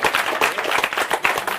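Audience applauding a 2016 women's hockey gold medal winner at a business event, a dense, steady patter of many hands clapping close and fairly loud throughout, with no talk.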